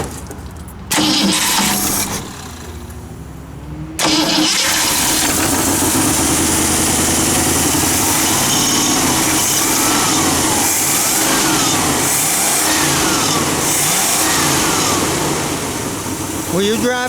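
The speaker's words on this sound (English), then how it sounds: "Let me try and start it again." A 1965 Ford Mustang barn find that sat for 13 years cranks and catches, then runs loudly with repeated revs rising and falling, close to the car, with voices briefly present.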